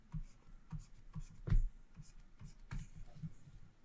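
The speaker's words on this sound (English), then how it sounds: "So I'll draw this line" A pen drawing a line on paper, soft close scratching strokes in a rhythmic series with one firmer scrape midway, faint and alone.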